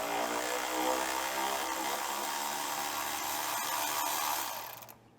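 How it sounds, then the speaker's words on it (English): A power tool whirs steadily while loosening factory Loctite-secured rocker cover bolts on a Renault Clio, a continuous close mechanical hum that winds down and stops near the end, with no one speaking. "You will have to crack these bolts loose because they do have Loctite in them from the factory"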